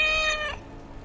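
A tabby kitten in the video game Dragon Age: Origins gives one short, clear, strained meow up close, and a faint background tone is left after it ends.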